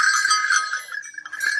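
Metal khankar bells on a pair of bullocks' neck straps jingle and clank continuously at close range, bright and ringing, with a brief lull before the jangling picks up again.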